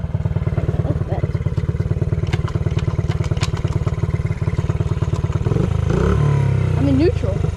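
A small mini bike engine chugs in a fast, steady rapid pulse while being ridden, loud and close. It rises into a rougher rev toward the end, and a voice speaks over it.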